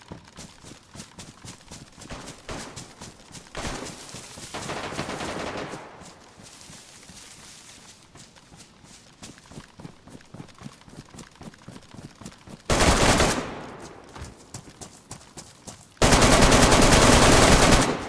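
Gunfire in the survival game DayZ, including an SSG sniper rifle: loud bursts of rapid shots, with two dense sustained volleys near the end, over quieter game noise.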